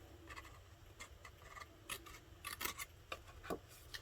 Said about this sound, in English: Just going to cut those little rectangles out